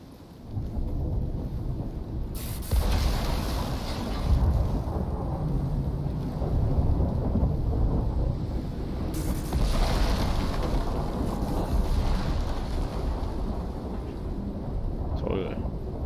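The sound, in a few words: thunderstorm with thunder and rain in a video game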